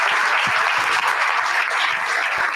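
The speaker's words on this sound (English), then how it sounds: "A round of applause for Captain Rydell and his crew" Sustained audience applause fills the room at a book release event, a dense steady wash of clapping from many hands, loud and continuous with no voices over it.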